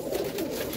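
A Lal Ambarsare pigeon at a loft in Lucknow gives a brief, soft cooing call, close and alone.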